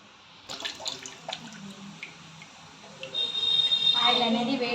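Rice flour pakoda batter drops into hot oil and fries with a sizzling hiss that swells and steadies after a few seconds, close by, while someone talks over the start.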